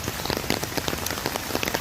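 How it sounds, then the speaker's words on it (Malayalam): Heavy rain pours steadily onto a hard surface at a bathing ghat with stone steps in Muvattupuzha, Kerala. A dense, continuous patter of drops with no pauses. "മഴകൾ നിന്ന് പെയ്യുമ്പോൾ ഒരു നാടൻ കാഴ്ച"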